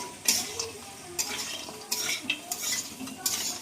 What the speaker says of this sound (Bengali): কচুগুলোকে ভালো করে নেড়ে নিচ্ছি